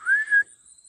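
A short rising whistle sounds outdoors during a walk around a rural property in nature, a single clear tone lasting under half a second, then quiet with a faint high hiss.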